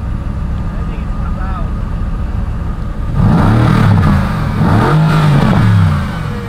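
A Porsche 918 hypercar out in the desert revs hard after a few quiet seconds, its engine note swelling loud and close in two rising-and-falling sweeps before easing off.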